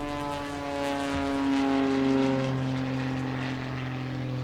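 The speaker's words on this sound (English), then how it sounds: "I stood watching some of the planes take off and land." Propeller airplanes at an airport, a loud sustained engine drone with a low steady pitch that swells slightly and then eases, heard alone without talk.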